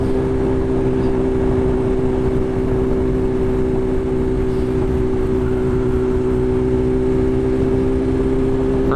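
A BMW S1000RR sportbike engine roars steadily while being ridden, a loud continuous droning hum with strong low rumble and a sustained tonal whine, with no talk over it.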